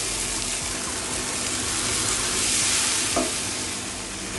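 Water poured into spice masala frying in a pan at home, a loud continuous sizzle and bubbling hiss with stirring, steady throughout and swelling slightly midway.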